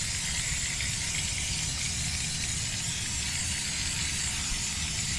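Undercoating sprayed onto the underside of a Honda Element during rustproofing gives a steady, close hiss that runs unbroken the whole time, with no talking.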